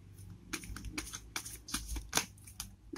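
A Romance Angel tarot card deck is shuffled by hand, a series of quick, close riffling and flicking bursts in an uneven rhythm, soft and alone without talk.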